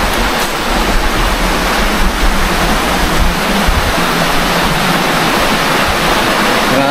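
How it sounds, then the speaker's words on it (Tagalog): A mountain stream rushes hard and loud, a dense, unbroken roar of churning water that stays close and constant throughout. "Napakalakas ng tubig. Tsaka ragasa ha."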